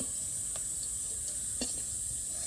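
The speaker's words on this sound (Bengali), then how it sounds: "একবারে হালকা আঁচে বসিয়ে একদম মচমচে করে ভেজে নিয়েছি।" Mithai sweets frying crisp in hot oil over a low flame give off a steady, soft sizzling hiss with a few faint clicks and pops, heard close and alone.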